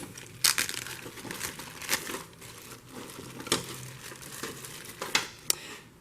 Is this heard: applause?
no